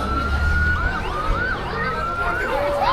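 Police car siren wailing during a rainy Santa Claus parade, its rising and falling sweeps loud and continuous over street rumble, with the tone gliding up and down several times.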